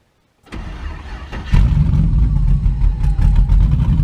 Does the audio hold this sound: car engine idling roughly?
yes